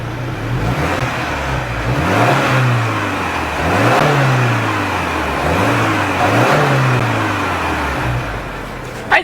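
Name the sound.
2026 Subaru Outback exhaust revving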